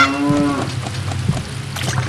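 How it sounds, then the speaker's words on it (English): A cow moos once, drawn out and loud, in The Legend of Zelda, followed by short game sound effects. "there's also that other cow we gotta shoot."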